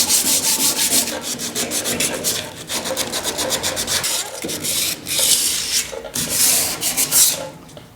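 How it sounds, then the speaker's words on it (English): Dry 220-grit sandpaper rubbed by hand over bare metal on a GTO restomod car body, steady close scratchy back-and-forth strokes in quick rhythm with brief pauses, no talk. "I've got some 220 sandpaper here."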